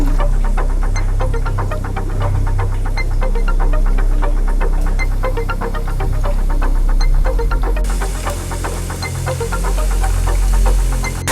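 Pieces of beef for beef chilli fry in hot oil, a steady crackling sizzle with a low throbbing hum underneath that holds for the whole stretch, swelling slightly toward the end.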